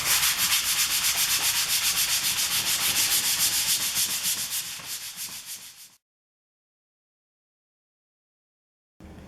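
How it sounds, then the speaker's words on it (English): Sandpaper rubbing steadily over a planed piece of wood, fast back-and-forth strokes loud and close for about six seconds, then silence before a brief burst resumes. "I'm going to sand it."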